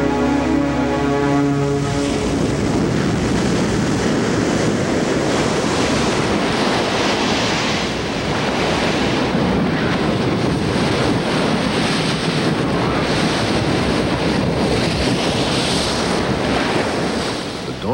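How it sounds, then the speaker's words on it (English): South Atlantic rollers pound a barren, inhospitable coast in a sustained, loud roar of breaking surf, thick with crashing and wind buffeting, and no voices on top. "South Atlantic rollers beat on this barren coast with the energy of the Antarctic storms that set them on their way."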